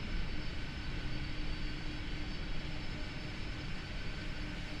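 Boeing 747 engines roar steadily in Microsoft Flight Simulator, a broad, constant jet drone at close range with no breaks or speech.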